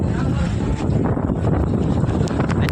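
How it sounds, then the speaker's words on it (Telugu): Strong wind roars across the microphone at Goa beach in a constant, loud, buffeting rush, with the deep wash of big waves blended into it and no clear breaks. "ఫుల్ గాలి, పెద్ద అలలు అయితే వస్తుండే"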